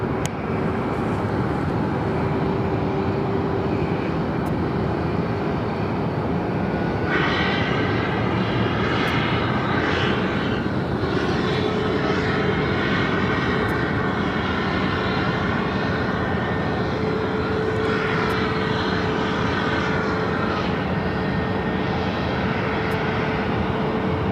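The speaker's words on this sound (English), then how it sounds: "it's Piper the White Pelican in livery, flight 1735, the 4-year-old A320 Neo" A Frontier Airlines Airbus A320neo in Piper the White Pelican livery, flight 1735, roars steadily at Phoenix Sky Harbor, its loud continuous jet noise swelling with a rising engine whine partway through.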